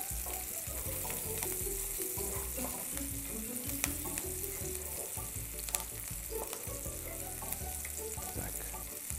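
Onions fry in a pan as a mussels-in-cream dish is cooked, with a steady close sizzle, occasional crackles and the clink of stirring.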